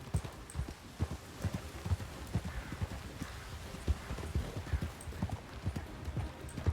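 Horse hooves clip-clop in a steady, even walking rhythm in the RedM western roleplay game, fairly quiet and continuous throughout with no voices.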